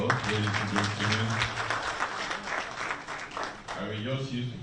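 An audience at a public talk on Sierra Leone's proportional representation electoral system breaks into a round of applause, a dense wash of clapping in the middle, framed by a speaker's voice before and after.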